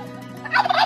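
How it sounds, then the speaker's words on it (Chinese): A turkey gobbles in a Thai village yard, one short rapid rattling call rising out of quiet background, close and clear with no talk. "出去溜达，火鸡。"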